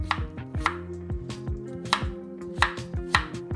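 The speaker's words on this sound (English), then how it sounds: "Now, I'm gonna take out the core, slice like a 45-degree angle." Sharp knife taps on a cutting board as the cores are sliced out of quartered apples at an angle, about a dozen quick, crisp knocks in an uneven rhythm, close and clear with no talk.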